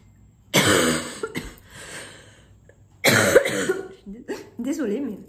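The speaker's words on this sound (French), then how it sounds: "Désolée, mais j'ai une toux qui perdure." A woman coughs repeatedly in two harsh bursts with throat clearing, close and loud, in a persistent lingering cough with brief breathy pauses between fits.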